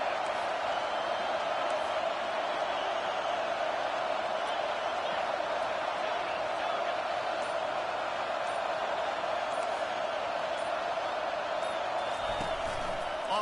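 Steady roar of a football stadium crowd at a college game against Boise, dense and unbroken for the whole stretch, with a commentator talking over it.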